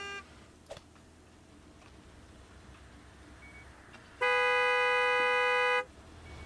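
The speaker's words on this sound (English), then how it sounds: "no honking at my customers" A car horn honks at a gas station in Gas Station Simulator, one long steady blast of about a second and a half rising loudly over quiet background ambience.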